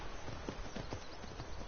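A horse's hooves clip-clop at a brisk, even trot in the video game Skyrim, a short burst of rhythmic hoofbeats at moderate loudness.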